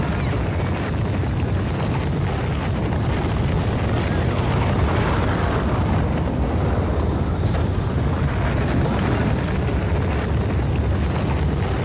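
A rocket launch in Factorio Space Age, a sustained loud roaring rumble that swells steadily for about twelve seconds with no breaks.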